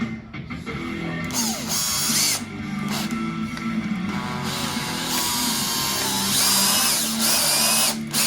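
A power drill with a square drive bit drives screws into an antique 1920s mahogany Federal-style fold-top console table, whirring loudly and close in repeated bursts with brief pauses and rising pitch as each screw seats.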